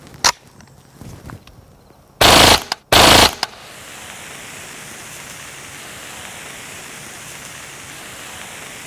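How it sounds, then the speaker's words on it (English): A Kriss Vector firing .45 ACP rounds at a stainless steel beer keg outdoors: a few single shots, then two loud rapid bursts close together, followed by a steady hiss of background noise. "the 45 ACP wasn't quite up to the job of piercing through that stainless steel keg"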